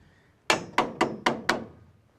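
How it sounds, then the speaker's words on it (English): Five sharp knocks of a soft mallet on a metal part of a three-link rear suspension, evenly spaced, close and fairly loud, with brief ringing after each. "Just give it a little gentle persuasion with a soft mallet"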